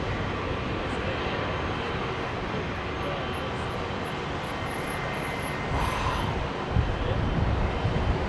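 A triple-engine airliner on a full-length evening departure from Heathrow Airport, bound for Bangkok, a loud sustained roar of jet engines that stays broad and steady, swelling slightly toward the end.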